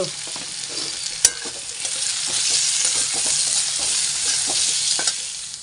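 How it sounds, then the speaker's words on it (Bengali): Sliced sweet pumpkin frying in a pan for breakfast, a steady bright sizzle close up with occasional sharp pops and the clink of stirring throughout, no voices. "আজকে সকালের খাবারে হবে মিষ্টি কুমড়ো ভাজা আর বেগুন সেদ্ধ।"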